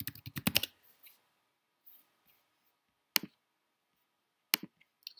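Computer keys clatter in a quick burst of typing at the start, then fall quiet apart from a few isolated, crisp clicks spaced out afterward.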